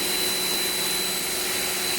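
A compressed-air blower blasts dust out of the air-conditioning unit of a Toyota Revo pickup, making a loud, steady rushing hiss with a thin high whine and no pauses.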